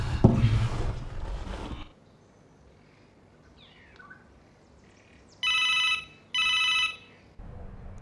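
A mobile phone ringtone chimes in two short electronic bursts, fairly clear, after a loud rustling noise at the start and a quiet stretch with faint outdoor sounds.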